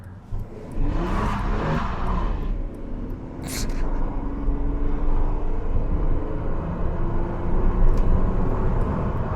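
A Holden car drives and accelerates, its engine a steady close rumble that builds in revving under the road noise, with a brief sharp burst partway through.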